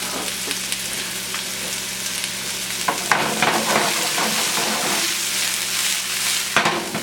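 Garlic sizzling with mushrooms in a pan, a continuous close crackle with stirring scrapes that grows slightly louder partway through.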